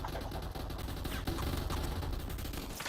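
Rapid bursts of gunfire in a video game gun fight arena, dense overlapping shots and automatic fire crackling continuously and loudly with no pauses, no talk.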